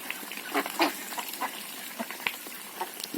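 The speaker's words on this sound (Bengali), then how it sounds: "খাবার খাইতেছে দেশি হাঁস" Desi domestic ducks feed at close range, their quacks and nasal calls coming in short irregular bursts over soft outdoor background noise, with no talking.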